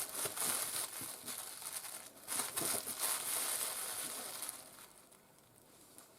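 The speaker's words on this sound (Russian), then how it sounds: "Заворачиваю в пакет вот так." A plastic bag crinkles and rustles steadily as a bunch of dill is wrapped in it, close and continuous with denser bursts, fading slightly toward the end.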